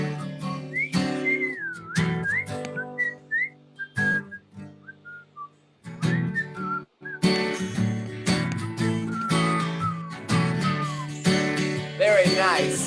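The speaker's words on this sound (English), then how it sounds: "Whistle with me, everybody." Several people whistle together in a loose group, rising and falling melodic lines over a crowd's murmur, with a short quieter pause near the middle before the group whistling swells back in.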